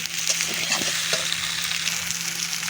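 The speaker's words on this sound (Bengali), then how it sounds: "কুমড়ি আলুটা দিয়ে আমি সুন্দর করে কষিয়ে নিচ্ছি" Small home-grown potatoes are stir-fried in a pan: a dense, constant sizzle with a few quick spatula scrapes on top, close and fairly loud, no speech.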